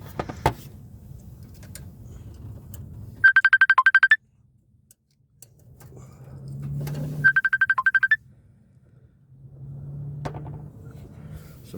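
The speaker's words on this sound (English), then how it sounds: "Somebody's calling me, so I had to deny that call real quick." A phone rings with an incoming call: two bursts of a loud, rapidly trilling electronic ringtone, separated by low rumbling and quiet pauses.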